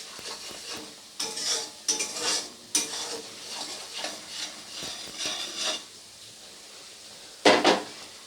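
Masala for niramish doi potol being fried and stirred in a pan, repeated spatula scrapes and rubs against the metal in uneven bursts over a soft sizzle, close, with a louder scrape near the end.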